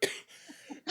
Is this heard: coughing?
yes